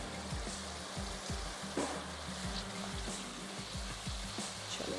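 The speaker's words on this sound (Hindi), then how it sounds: "थोड़ा सा भूनते हैं, क्योंकि मसाले हैं उसका कच्चापन ना रहे।" Ground spices, red chilli powder and coriander, fry in hot oil in a pan with a continuous close sizzle and soft stirring scrapes, no talking.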